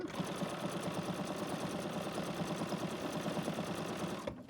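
A Bernina sewing machine runs steadily for the whole stretch, its fast needle stitching a sketch appliqué detail in a rapid, even mechanical chatter that stops abruptly at the end; no voices.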